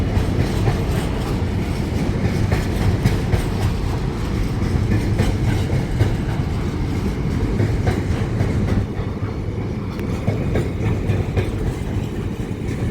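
Trains passing through Manors Station, a steady rumble of rolling stock with clickety-clack wheel rhythm and engine drone close by, continuous throughout with no talking.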